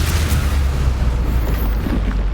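A Confringo spell explosion in the Hogwarts Legacy video game, a loud booming blast with a deep low-end rumble that rolls on and fades slowly over a couple of seconds.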